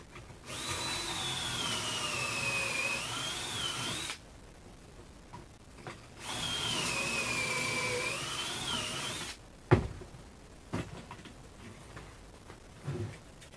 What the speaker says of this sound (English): make sure your drill is all the way on 2. Drill going in